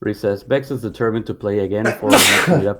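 A single sharp sneeze bursts out near the end, right after a stretch of conversational speech.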